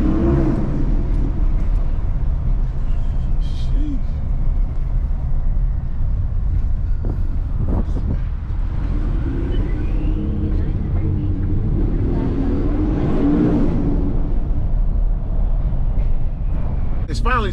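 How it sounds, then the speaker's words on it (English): A turbocharged lifted Ford F150 truck exhaust rumbles loudly inside a garage, with a deep continuous drone and surging turbo whistle as someone talks over it. "I want y'all to hear this exhaust in the garage"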